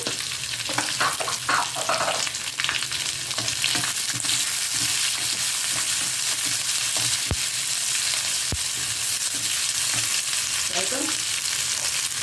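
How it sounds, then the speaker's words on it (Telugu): A large onion fries in a hot pan, giving a dense, continuous close sizzle with a few light stirring clicks and no talk. "ఇప్పుడు ఓ పెద్ద ఉల్లిపాయ వేస్తున్నాను."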